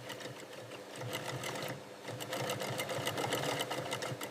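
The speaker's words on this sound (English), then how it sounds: "Core structure forms through precise and continuous stitching." An industrial sewing machine stitches a leather jacket in a factory, a fast steady mechanical chatter of needle strokes that runs continuously and fairly close, with a brief pause before resuming.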